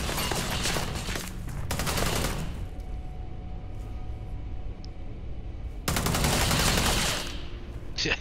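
Sustained automatic gunfire from a companion's weapon in the video game Starfield, with loud rapid fusillades at the start and again near the end and a softer continuous rattle between.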